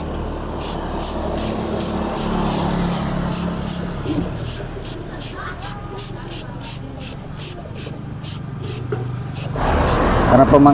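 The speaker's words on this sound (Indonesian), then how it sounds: "saya menggunakan salah satu produk keras yaitu motor cleaner, menyemprotkan pada bagian-bagian yang sisa oli ini ya teman-teman." Motor cleaner sprays in repeated short bursts onto oily motorcycle chain parts, a rhythmic series of close, loud hissing puffs over a rough rubbing background, ending with a longer continuous spray.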